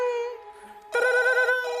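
An old landline telephone bell rings, used as a sound effect recalling a 1988 home call: a sustained metallic ringing tone that drops briefly, then bursts back louder and fuller for the second half.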